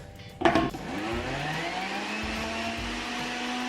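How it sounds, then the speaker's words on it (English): Kitchen blender blending watermelon for juice: a sharp clatter at the start, then a steady motor whir that holds level to the end, alone without talk. "I'm just going to show you that you can do this also with a blender."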